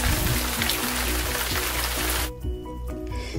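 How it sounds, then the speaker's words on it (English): Rain patters densely on a window for a couple of seconds, a steady hiss of drops over a repeating musical backdrop, then cuts off abruptly leaving a quieter tail. "splish, splash, splash of raindrops on the window sings Peppa and George to sleep."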